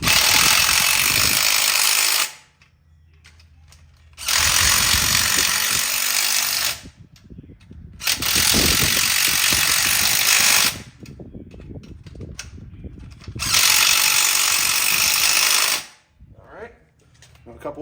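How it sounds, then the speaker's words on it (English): An electric impact wrench working on the rear end of a 1971 Dodge Charger during a gear swap fires four loud, close bursts of about two to three seconds each. Quieter gaps between bursts carry faint clinks and handling noise. "Where's my handy dandy electronic wrench?"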